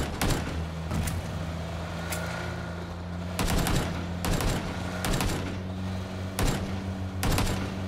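Gunfire in the PUBG video game: several sharp, loud shots and short bursts spaced irregularly over a steady engine-like hum, with no speech.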